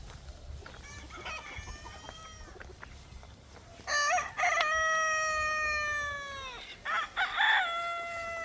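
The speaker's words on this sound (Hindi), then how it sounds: "फिलहाल आप लोग देखो, ये मुर्गी देखो।" Free-range chickens cluck in a farmyard by the fields, then a rooster crows loudly and close by several times, with more clucking between the crows and no voices.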